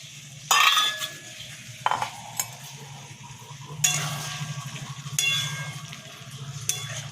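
Boiled peas tumble into a pan of frying masala with a sharp splash of sizzle, then a spoon stirs and scrapes, clinking against the pot in several bursts over a low continuous fry.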